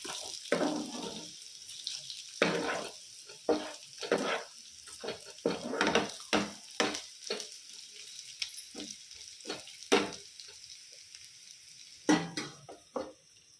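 Chicken pieces frying in a pan for a chicken fry, crackling sizzle broken by repeated scraping stirs at an irregular rhythm, close and alone.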